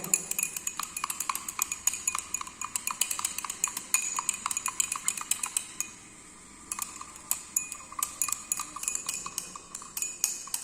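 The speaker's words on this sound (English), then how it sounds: "Almost 20 minutes we stir it at 60 degrees Celsius temperature" Hydroxypropyl methyl cellulose thickener being stirred into a clear shampoo mixture kept warm at 60 degrees Celsius, giving steady rhythmic clinks and scrapes of a utensil against the vessel, fairly close and moderate in level, with a brief pause partway through.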